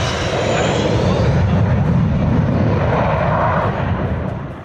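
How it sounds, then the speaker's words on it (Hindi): An Indian Air Force Sukhoi Su-30 fighter jet roars loudly and steadily as it comes down onto the Purvanchal Expressway airstrip near Sultanpur, the rumble easing slightly at the end. "ये इंडियन आर्मी का सुखोई 30 लड़ाकू विमान है जो आसमान में गरजते हुए एक्सप्रेसवे पर उतरता है"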